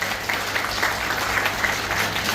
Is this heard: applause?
yes